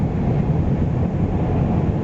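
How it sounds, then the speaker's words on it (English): Steady heavy rumble of road train trucks rolling past on an outback road near Alice Springs, Australia, a continuous low roar with wind buffeting, no voices. "Here's a couple of road trains."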